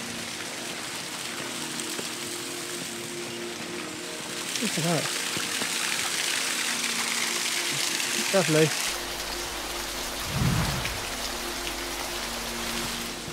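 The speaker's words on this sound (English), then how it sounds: "there's the other waterfall" Water flows steadily from a small waterfall beside the Cotswold Way near Bath, a continuous broadband rush with a brief louder surge, while people speak briefly nearby.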